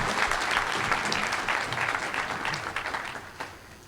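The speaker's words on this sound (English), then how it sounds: "Let's give him a round of applause." Audience applause at a physics and consciousness conference plenary session, a dense steady clapping from a full hall that runs for about four seconds and fades slightly toward the end, with no talking over it.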